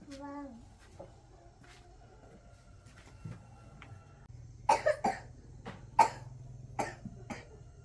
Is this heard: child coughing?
yes